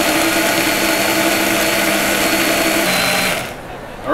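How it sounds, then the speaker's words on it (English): A kitchen blender whirs loudly and steadily while blending sun-dried tomatoes into a sauce, then the motor cuts off and the whine drops away near the end. "We got it all blended up."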